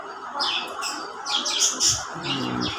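Young racing pigeons being raised for the 2024 races call with quick, high chirping bursts, close and fairly loud, repeating across a few seconds with no talk.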